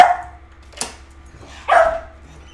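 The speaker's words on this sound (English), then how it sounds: "I'm sorry about the barking." A dog barks twice nearby, two sharp loud yelps separated by about a second, with a faint clatter in between and a quiet room hum underneath.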